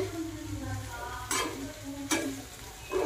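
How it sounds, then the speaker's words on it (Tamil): Pirandai (adamant creeper) sautéing in a pan for pickle, with a steady soft sizzle and three louder bursts of stirring scrapes spaced about a second apart, heard alone. "எப்படியும் 10 நிமிஷம் ஆகுங்க இது வதங்கிறதுக்கு, அதனால் பொறுமையாக வதக்குங்க"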